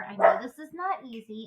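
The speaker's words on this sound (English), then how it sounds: "I'm sorry that my dogs are barking" Dogs barking in a home, a few short yips and barks mixed in under a woman's nearby speech.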